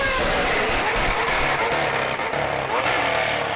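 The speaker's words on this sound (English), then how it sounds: "they were able to invent the blown diffuser, giving us a whole era of cars that sounded like this" A Formula 1 car engine with a blown diffuser screams loudly and continuously, with a dense, raspy high-revving roar that barely wavers across the whole stretch.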